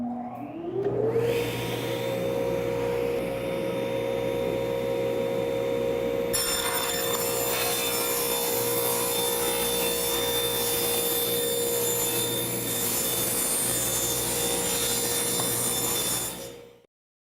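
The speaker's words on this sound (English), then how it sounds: "I'm gonna have Nick kick on the dust collector" A wood shop dust collector, running while DIY shutters are cut, spins up with a rising whine and then holds a loud, steady roar with a high tonal hum before cutting off at the end.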